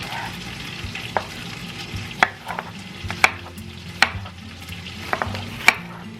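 Seasoned potatoes cook in a covered pan, giving a continuous sizzle with scattered crackles and a few sharper pops and clicks at irregular intervals.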